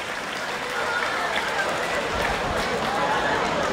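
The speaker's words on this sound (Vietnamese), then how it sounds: "dành một tràng pháo tay giòn giã nhất để chúc mừng cho 360 học sinh khối 12" Sustained, dense applause from a large crowd at a coming-of-age ceremony for 360 twelfth-grade students at Cửa Lò high school, clapping steadily for the full length at an even, loud level.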